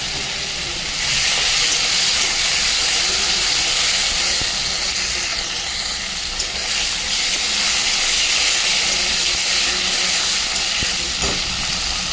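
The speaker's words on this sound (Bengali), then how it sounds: "এবার ওই তেলে দিয়ে একটু জিরে আর একটু শুকনো লঙ্কা ফোড়ন দিয়ে দেবো। দিয়ে দেবো একটু হিং ফোড়ন, দিয়ে দেবো কিছু টমেটো কুচো" Cumin, dried chili, hing and chopped tomato sizzle in hot oil, giving a loud, steady, hissing fry that stays close and constant throughout with no talking.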